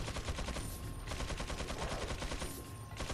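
Submachine gun fire in the video game Resident Evil 4, a dense, continuous rapid stream of shots lasting the whole three seconds.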